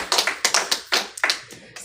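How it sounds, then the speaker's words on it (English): Several sharp hand claps ring out in a loose, uneven rhythm at a Bible study gathering, close and moderately loud, with brief gaps between them. "clap it up."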